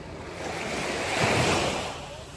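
Mild ocean waves wash onto a Jamaican beach on a cloudy day, a steady broad surf hiss that swells gently near the middle, with some wind noise on the microphone.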